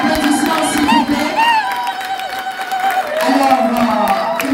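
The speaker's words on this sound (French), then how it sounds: "Sous vos applaudissements, s'il vous plaît." Applause and cheering rise from an audience at the Prix Mama Muilu award ceremony in Brussels, a lively burst of clapping and shouts with an amplified voice speaking over it, fading briefly then swelling again.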